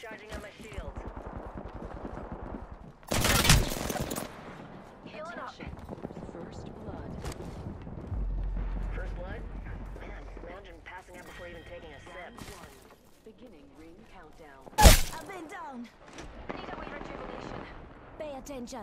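Video game gunfire comes in a few sharp, loud bursts, one early and one near the end, spread across a stretch of ongoing talk with other quieter game noise between them.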